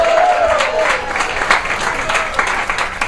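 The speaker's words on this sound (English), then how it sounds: "Give me a round of applause, come on." Comedy club audience applauding during a stand-up set, a dense wash of clapping that rises right after a voice and stays steady throughout.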